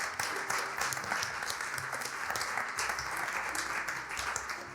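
A church congregation applauds and cheers for God in a sustained wash of clapping and shouts, steady and fairly loud from the whole room.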